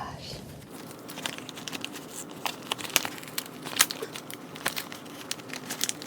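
Paper sticker pamphlet being torn open up close, with busy crinkling and sharp ripping crackles in quick irregular bursts, and a faint voice now and then.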